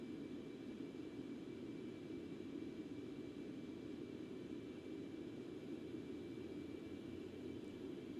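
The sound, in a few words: Concorde jet engines at full throttle, X-Plane 11 video game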